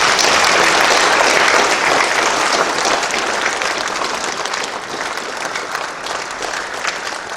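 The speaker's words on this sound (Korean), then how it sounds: "우리 전달할 때 박수로 환영해 주시죠" Audience at a church denomination's memorial hall launching ceremony applauds as a commemorative flag is handed over, loud sustained clapping continuing evenly throughout with a slight easing later.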